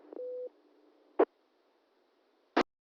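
A 440 MHz amateur radio repeater answers a key-up with a short steady courtesy tone, followed by two sharp clicks about a second apart, alone against faint hiss.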